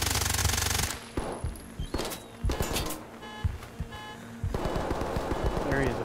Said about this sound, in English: Oh, someone's shooting to the right.